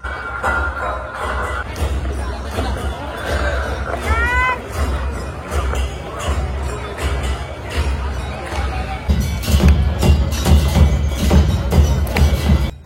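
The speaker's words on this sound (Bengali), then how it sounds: "মন্দির প্রাঙ্গণ তখন ভক্তদের ভিড়ে ঠাসাঠাসি।" A packed crowd of devotees fills the courtyard of Baidyanath temple in Deoghar during evening aarti, a steady loud hubbub that swells louder near the end, with a voice speaking over it.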